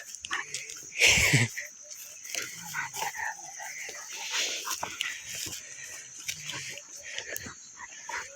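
A dog gives one loud, sharp bark or yelp close by, with people talking in Vietnamese on and off around it and steady background noise throughout.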